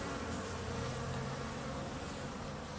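Honey bees swarm around a hive entrance during an orientation flight, a continuous dense buzzing drone of many insects, steady and close with no talking.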